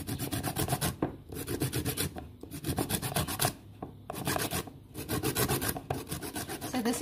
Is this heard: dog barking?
no